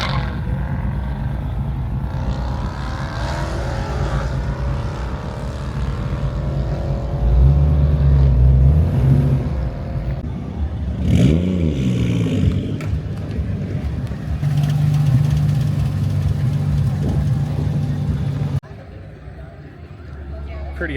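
Cars revving and running on an airport airstrip during a night car meet at Marion Airport, Iowa, a steady loud engine roar with surging passes, under ongoing talk throughout.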